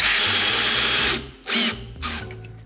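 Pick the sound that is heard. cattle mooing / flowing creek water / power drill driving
power drill driving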